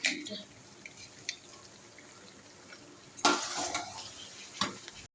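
Chicken curry stirred in a pan after fresh cream goes in, a soft steady scraping under a faint sizzle with a few sharper clatters of the spoon, loudest in a burst about two thirds through.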